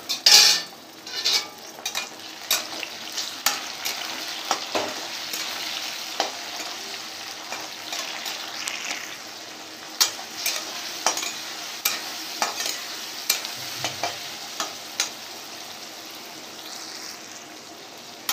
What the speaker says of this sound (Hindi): प्याज के साथ टमाटर भी अच्छा से फ्राई हो गया है।